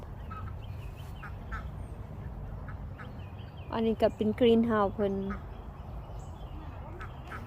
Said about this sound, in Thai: ไก่กับเป็ดแลอยู่น้ำกัน